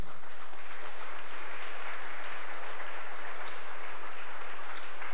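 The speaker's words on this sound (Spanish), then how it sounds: "démosles un aplauso en el nombre del Señor" Church congregation applauds together during a service, a dense, even wash of many hands clapping at moderate loudness, continuous throughout without talk.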